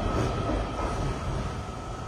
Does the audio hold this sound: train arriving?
yes